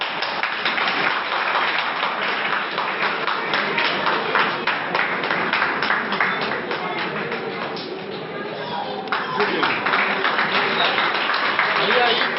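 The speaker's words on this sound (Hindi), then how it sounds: "जोरदार तालियों से इनका सम्मान किया जाए" Sustained, dense applause from a crowd fills a Dhobi community get-together in Dahisar, Mumbai. Steady clapping carries on, dips briefly, then rises again, with voices mixed in.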